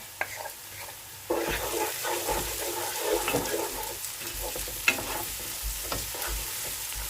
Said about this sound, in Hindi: अब हम इसे अच्छे से भून लेंगे